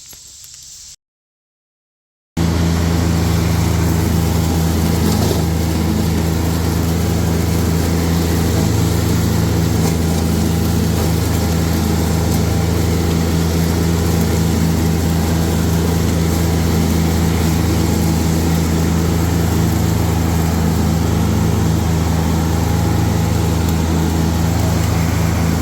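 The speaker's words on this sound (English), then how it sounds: "we're going to go ahead and mow an outline here of what our field is going to be" A mower cuts the outline of a food plot field, its engine a loud, steady drone that runs on without a break after a short quiet start. The sound stays close and unvarying throughout.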